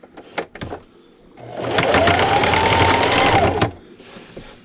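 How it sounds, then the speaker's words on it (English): A sewing machine top stitches a fabric cast iron pan liner in one steady, close run of fast needle clatter lasting about two seconds, framed by a few handling clicks before and after. "I'm going to take this over to my sewing machine, and I'm just going to top stitch with an 1/8 inch seam allowance all the way around"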